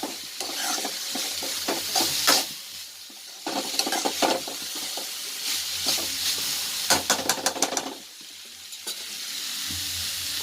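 Beetroot thoran being stir-fried Kerala style in a pan: a steady sizzle and hiss broken by bursts of scraping and stirring, with quick rhythmic clatters of a spatula against the pan.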